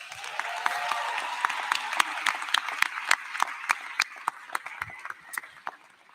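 Applause for four students at a medical school commencement ceremony: a broad crowd clapping in a large hall, with sharper individual claps standing out as the sound thins and fades.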